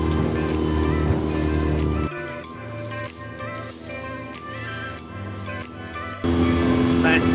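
Dinghy motoring on water near a bridge at a San Diego anchorage, a steady outboard hum with wind and water noise, rough and close, dropping in level briefly in the middle before surging again.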